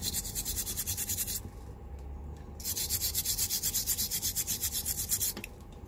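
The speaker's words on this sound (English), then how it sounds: "Good brass brush, wet it. Give it a good scrub." A wet brass brush scrubs a sheet of reticulated brass up close, with brisk rhythmic back-and-forth strokes, a short pause, then steady scrubbing again.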